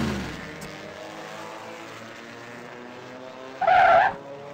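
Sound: car skidding and spinning out on oil

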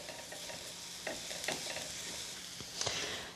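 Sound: sautéing in chicken fat in a pan

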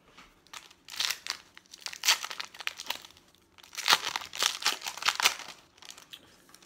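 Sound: card pack wrapper being opened

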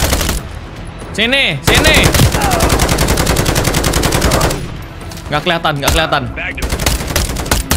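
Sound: sentry gun firing in video game Call of Duty Modern Warfare 3

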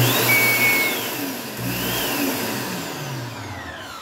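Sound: dog grooming dryer running

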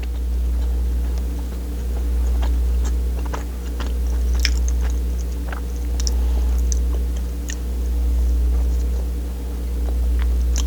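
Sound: eating Starbucks triple cheese bagel bread

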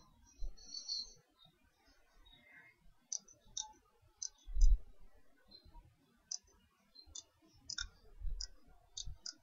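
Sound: computer mouse left double-click

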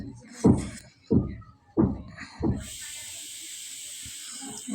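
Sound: onion, turmeric and chili sizzling in hot oil

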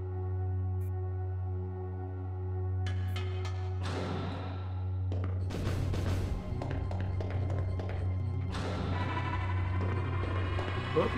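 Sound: new generating tile in video game Hybrid Heaven

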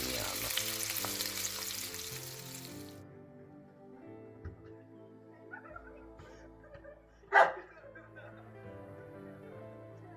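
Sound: grayling fish frying in pan

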